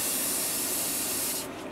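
A continuous hiss of a spray paint can spraying onto a scooter helmet, loud and close, easing off abruptly near the end.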